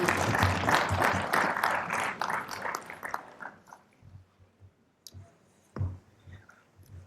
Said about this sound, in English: Please another round of applause for the Honorable.